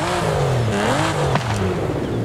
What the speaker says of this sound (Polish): Aston Martin ma V12. Możemy Astona Martina posłuchać.